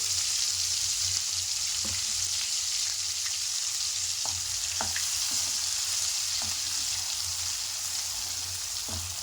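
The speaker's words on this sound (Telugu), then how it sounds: "ఇది వేసాక ఆయిల్ మొత్తం పైకి తేలే వరకు ఫ్రై చేసుకోవాలి." Masala paste fries in oil for a lotus seed curry, producing a constant, even sizzle up close with occasional soft spatula stirs and faint pops scattered over it.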